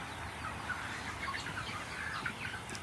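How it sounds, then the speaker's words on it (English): Young chicks in a brooder at night with hanging heat lamps, producing a steady chorus of soft high peeping and cheeping over a constant background hum, moderately close and without talk. "But there's the chicks"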